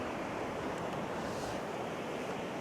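Sea waves wash onto the beach at Cambois as a continuous, broad surf roar under light wind, steady and unbroken, with no voices.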